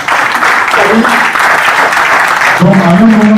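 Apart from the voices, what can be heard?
applause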